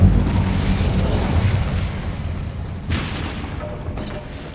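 Incendio fire spell blasts in Hogwarts Legacy: a loud, rumbling burst of flame opening strongly and roaring on, with a second whooshing surge near the end, close and dense with no voices.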